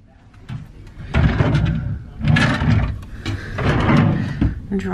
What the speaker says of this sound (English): that drawer opens.